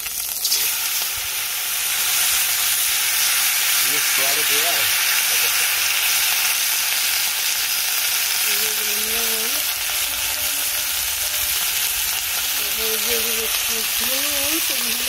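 Vegetables fry in a hot pan for a sour curry of big fish, giving a steady, dense sizzle throughout, with a voice faintly audible in places.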